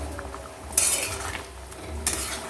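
Kofta curry stirred in a pot over high flame, with a quiet bubbling bed and two sharp clinks of a utensil against the pot, the first louder, spaced over a second apart.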